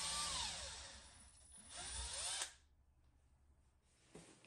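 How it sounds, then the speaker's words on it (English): A power drill bores handle holes into wooden cabinet doors, two loud whining bursts of the motor with the pitch rising and falling, then a quiet gap and a short final spin-up, close by and without talk. "It is also very important to keep the drill bit level, without angling up and down or side to side."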